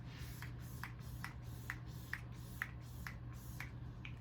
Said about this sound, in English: And then I'm just going to take the setting spray one more time.